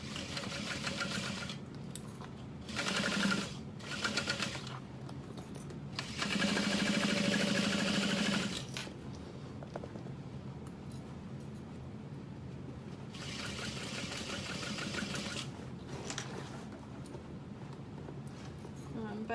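A sewing machine stitches a half-inch seam on a modified Louise barrel bag, running in several steady bursts of whirring with quiet gaps between them.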